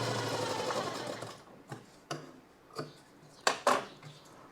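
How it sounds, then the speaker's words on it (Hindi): A sewing machine runs a strong double seam on a princess-cut blouse with a brief steady whir, followed by a few sparse mechanical clicks and taps as the fabric is handled. "हर जगह आप मजबूत डबल सिलाई चलाएं"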